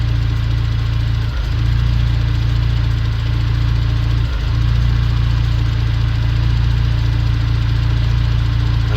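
An Isuzu NPS truck engine idles steadily and loudly with a low rumble that stumbles and dips twice, an uneven misfire breaking the otherwise constant drone.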